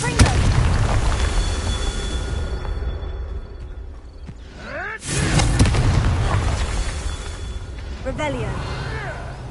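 Booming magical explosions from the Confringo spell in Hogwarts Legacy on PS5, several heavy bursts with a sharp blast near the middle and another toward the end, ringing against game ambience and a spoken incantation.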